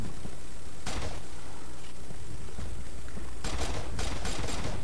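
Gunfire in the online shooter Red Crucible 2, with bursts of rapid shots that come loud and clustered near the end, over a steady game background with no voices.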